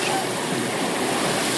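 Water splashing and surging as Sephiroth lands in the water in Final Fantasy VII Rebirth, a brief, dense wash of turbulent water noise with no clear individual splashes.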